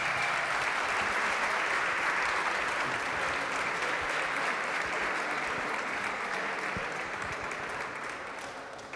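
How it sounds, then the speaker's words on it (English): Sustained applause from an audience at a hackathon event as a group takes the stage, dense steady clapping filling the whole stretch and tapering slightly near the end. "Clap for them."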